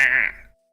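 A person imitates a sheep's bleat with a single short, nasal, wavering vocal bleat that fades out within about half a second.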